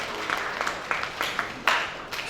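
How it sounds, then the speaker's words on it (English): Audience applause at a presumptive tax and ICT revenue conference in Lagos, Nigeria: thin, scattered clapping from a modest crowd, steady for about two seconds with a few sharper claps standing out. "Please can we give them a round of applause."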